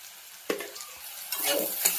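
Sliced bitter gourd sizzling in hot peanut oil with salt and turmeric, stirred in a pan; soft frying hiss with a few scraping stir strokes, close and fairly quiet.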